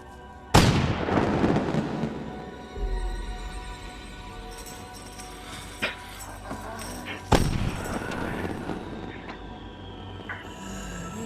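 Loud bursts of fireworks in a night zombie film scene, a big crackling boom at the start and another midway, with scattered smaller pops and rumble between them.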